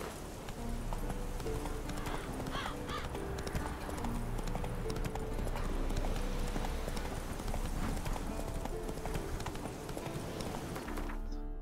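Hooves of the horse Roach galloping in The Witcher 3: Wild Hunt, a continuous loud, rapid clip-clop with an occasional whinny over steady game ambience.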